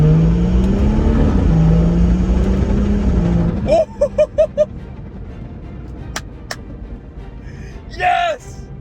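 A BMW 340i, a project car with loose parts flopping underneath, pulls away with a rising engine note, then a few short clipped revs as gears change, followed by quieter running and a brief swell near the end.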